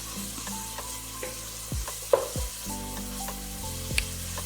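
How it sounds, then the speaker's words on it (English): Garlic, herbs and vegetables fry with rice in a pan, a steady sizzle broken by scraping stirs and a few sharp clinks of a utensil against the pan. "You add them and you fry."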